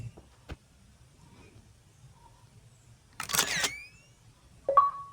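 A camera shutter clicks once in the video game Minecraft. It is a brief, bright snap with a short electronic trail, followed by a second small chime over a quiet background.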